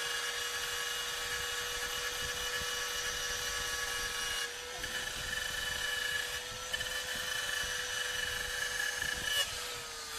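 A power tool sanding a wooden snowman to round off sharp spots gives a constant high whine and hum, close and unbroken, with brief dips as the load shifts.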